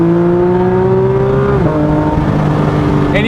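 A Porsche 992 GT3 RS engine revving high through short gears, a loud, sustained mechanical wail with clear rising pitch that steps down at a shift midway before climbing again.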